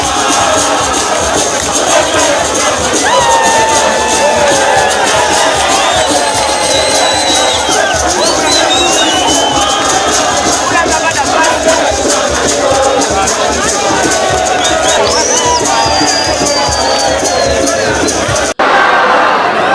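A large crowd of political supporters at a party headquarters in South Kivu shouts and cheers without a break. Voices rise in whoops and cries throughout, loud and close, in a dense mass of sound.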